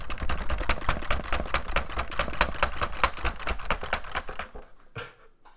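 An oversized mechanical keyboard clatters with a rapid, loud run of rattling keystrokes that slows and stops near the end, close up with no talking.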